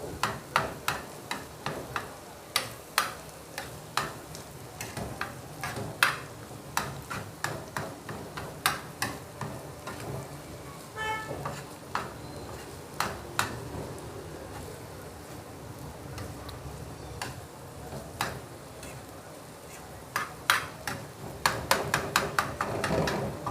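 A spatula scrapes and taps against a hot tawa while cooked egg is mixed through minced mutton keema, repeated metallic clacks in uneven bursts over a faint sizzle.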